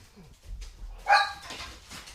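A pet dog in a home kitchen gives a single sharp bark, preceded and followed by quiet household sounds.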